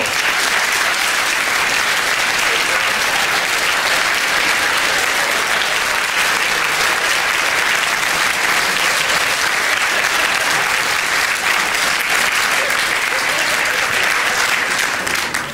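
A large gala audience gives sustained loud applause to welcome a singing duet to the stage, a dense, even roar of clapping throughout.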